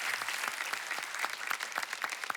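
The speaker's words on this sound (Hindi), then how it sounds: "जोरदार तालियों से स्वागत कीजिए तमन्ना और रितेश देशमुख का।" Studio audience at a comedy talk show claps enthusiastically to welcome guests, a brisk, dense burst of many hands with sharp individual claps standing out, steady throughout.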